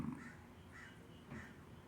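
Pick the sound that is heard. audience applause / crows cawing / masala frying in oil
crows cawing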